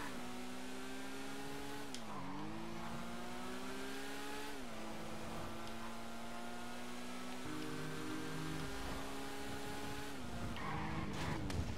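A car in Grand Theft Auto V skids with long wavering tire squeals over a steady engine drone, the pitch sliding and repeating several times, moderately loud with no talking.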